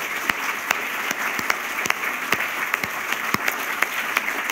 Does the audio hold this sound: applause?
yes